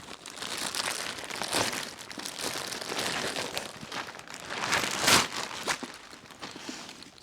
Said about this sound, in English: Let's open this thing up and see what comes in the package here.